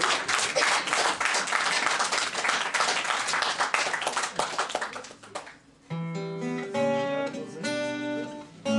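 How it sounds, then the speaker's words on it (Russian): Audience applause for the women at a Russian poetry and song performance, a dense burst of many hands clapping for about five seconds that fades as tonal music begins. "Аплодисменты нашим женщинам."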